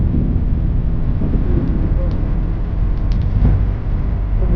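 Wind buffets the microphone outdoors at Kalabiyah Park in Saudi Arabia, a loud continuous low rumbling gust with a few faint brief sounds in the background.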